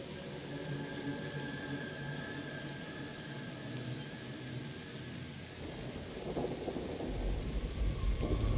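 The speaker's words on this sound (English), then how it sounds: "Got some thunder." Thunder in the video game Cocoon: a low, faint rumble rolling on steadily, then swelling into a louder crack and roll near the end, with no voices.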